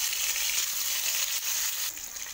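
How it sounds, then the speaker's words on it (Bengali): Rohu fish pieces frying in hot mustard oil: a dense, continuous sizzle and crackle holds close and steady throughout, easing slightly near the end. "এবার তেলটা গরম হয়ে গেছে, আস্তে আস্তে আমি চার পিস রুই মাছকে ভেজে নেব।"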